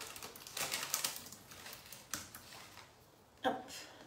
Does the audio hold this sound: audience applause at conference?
no